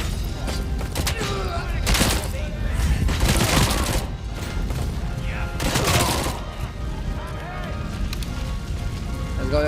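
Rapid SMG fire crackles in a video game in several loud bursts over a busy background, with a voice talking at times.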